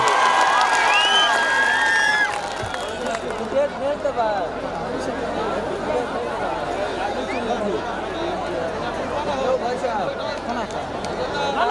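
Crowd at a Maithili dangal wrestling bout in Nepal claps and cheers loudly, with a sharp burst of whistles and shouts at first, then a dense, steady hubbub of chatter and cheering that carries on throughout.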